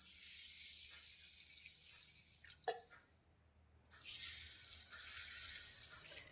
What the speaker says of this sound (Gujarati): तो पहेला आपणे बाजरीने धोई लईशुं